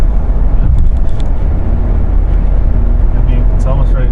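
A 2019 Ford Ranger Lariat with a 10-speed automatic hums loud and steady from inside the cab, a dense low engine and road drone with no clear gear changes.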